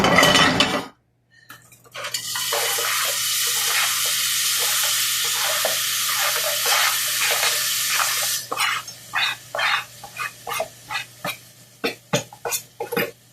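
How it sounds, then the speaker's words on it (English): A metal cooking pot handled while roast fish with hot pepper is prepared: a steady sizzle-like hiss, then a run of sharp clinks and knocks near the end, with no talk. "I'm gonna put it in the pot right now."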